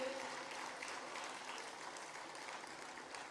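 Audience applause at the Sevan Festival City event, a steady, dense wash of many hands clapping throughout, fairly even in level with no individual claps standing out.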